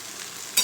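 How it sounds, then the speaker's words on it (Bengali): Spice masala of cumin powder and red chilli powder fries in a pan, a faint hiss that jumps to a brief, sharp sizzle as it is stirred. "মশলাটাকে ভালো করে কষিয়ে নেব।"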